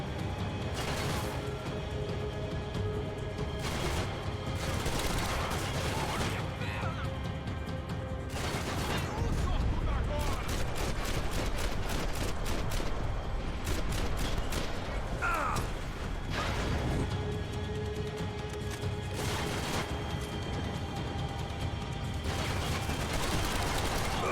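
Gunfire in the video game Max Payne 3 from an enemy with endless ammo, with rapid, sustained bursts of shots and mechanical clatter over a constant rumbling bed, and a voice talking at times.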